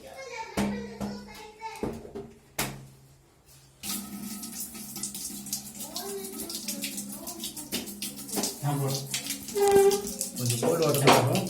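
Water runs from a tap through a newly installed Havells 3-litre instant electric geyser, a steady rushing flow with clicks and handling noises, while people talk over it.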